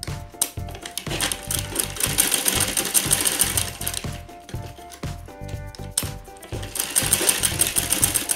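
A sewing machine stitches a handbag, its needle chattering in steady bursts that pause briefly and restart, loud and close with no talking.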